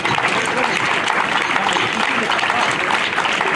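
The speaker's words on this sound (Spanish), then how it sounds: "¡Un fuerte aplauso!" Crowd at a pensioners' bicycle ride event in Plentzia applauding the riders, steady dense clapping with faint voices and a chuckle mixed in.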